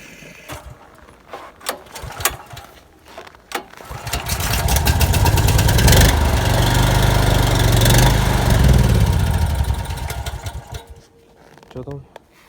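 A petrol electric generator starts and runs outdoors in minus 30 degree cold, a loud steady engine drone rising from about four seconds and fading near the end, with voices talking around it.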